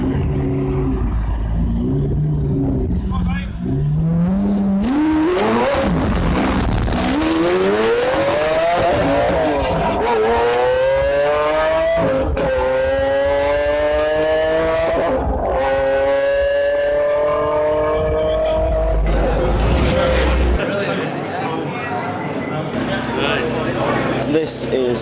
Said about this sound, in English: This is an Aventador that I am all too familiar with.